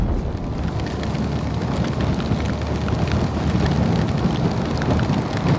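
Heavy rain pours steadily during Mexico's rainy season, a dense, even roar of drops hammering surfaces at close range with a deep low rumble beneath, and no voices.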